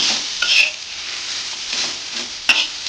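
Onion, coconut, garlic, ginger, tomato and coriander roast together in an oiled pan for a black-masala chicken curry, a steady close sizzle broken by a few louder stirring scrapes, with no talking.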